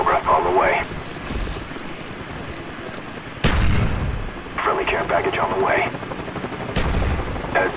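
Claymore mine detonation in the video game Call of Duty Black Ops, a loud booming blast midway through, set among game announcer voice lines and other sharp gunfire-like bursts.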